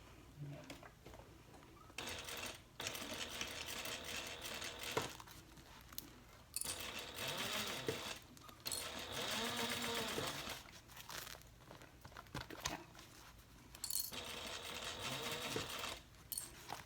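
A sewing machine stitches a handbag side seam at a 3/8-inch allowance, running in several long bursts with brief pauses between them, close and fairly loud, with a few quiet handling noises in the gaps.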